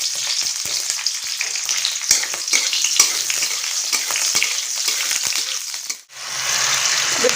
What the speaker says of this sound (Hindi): एबे पियाज पकईदबा